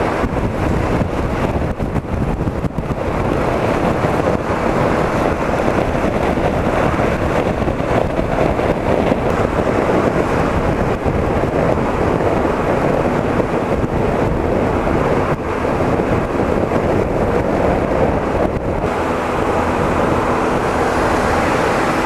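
Constant loud wind buffeting a microphone while riding a motorcycle through a night storm, a dense roar with road rumble underneath and no talk.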